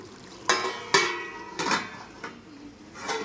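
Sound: lid being put on a cooking pot of chicken curry

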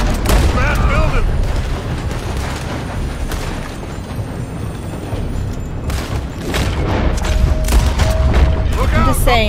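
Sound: gunfire in video game Red Dead Redemption 2

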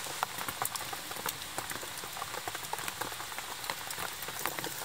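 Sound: heavy rain downpour

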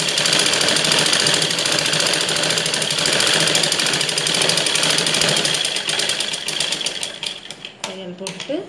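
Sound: sewing machine stitching a blouse

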